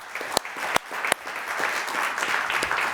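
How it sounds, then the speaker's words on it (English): An audience at a startup demo day gives a round of applause as speakers come on stage. Sparse, loud individual claps open the sound, then a continuous wash of clapping runs underneath. "have a big round of applause as well"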